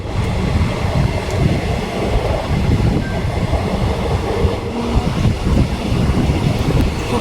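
A Ranaghat local train pulls out of Chakdaha station with a continuous, loud, close rumble of rolling wheels and some wind buffeting. No voices are heard.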